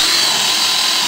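A power drill bores a hole down through an interior wall beneath an electrical box, giving a steady, loud whine that runs unbroken for about a second with no pauses.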